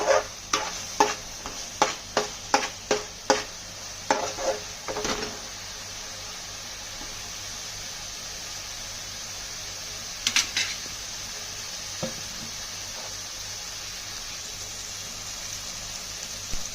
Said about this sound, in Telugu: ఇలా మసాలా ఎర్రగా వేగాలండి